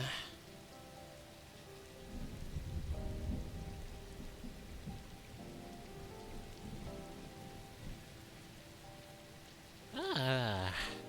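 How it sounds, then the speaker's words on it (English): Rain pours steadily through a thunderstorm in the Neverness to Everness game, with low rumbling thunder swelling early, steady music tones running underneath, and a brighter sweeping game sound near the end. "I saw some thunder over there."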